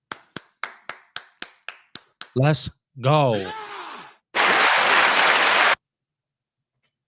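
About nine quick, evenly spaced claps sound close and loud during a live show. A voice calls out, then a loud, steady burst of noise follows before silence.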